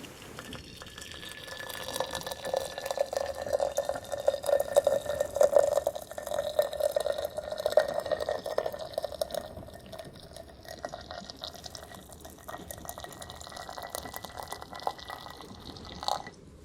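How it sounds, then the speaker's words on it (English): Water poured from a kettle into a teapot holding a tea bag on a first-class train, a continuous close trickle swelling in the middle then tapering, steady rail hum underneath. "I'm just going to pour some water in here."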